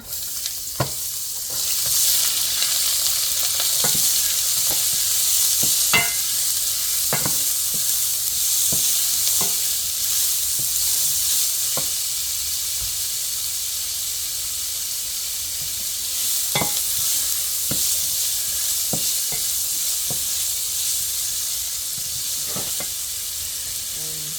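Onions frying in a pan for a meat pie filling, a steady loud sizzle and hiss broken by frequent sharp scrapes and knocks of stirring, with no talk over it.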